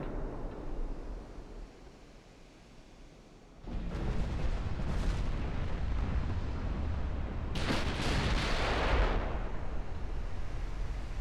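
Warship 6-inch guns firing in a naval battle game, heavy booming salvos that set in partway through and swell into a loud rolling roar, with a second bright blast burst later, no talk.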